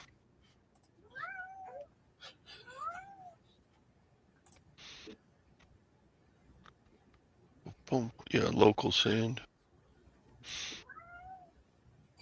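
A cat meows several times, rising and falling calls close by with clicks and thumps between them, while someone talks in between.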